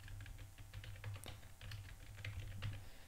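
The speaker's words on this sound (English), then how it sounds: "So I'm going to type something in here." Keys clatter steadily on a computer keyboard as a new password is entered in a web browser's settings, a close run of quick uneven taps over low background hum.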